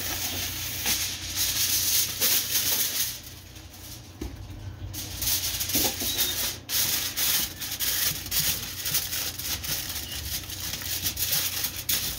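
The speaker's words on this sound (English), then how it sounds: "I'm just going to go ahead and line it with some tin foil or aluminum foil" Aluminum foil being pulled and pressed into a small pan on a stovetop while preparing a family dinner, giving a steady, close crinkling and rustling that runs throughout with a few sharper crackles.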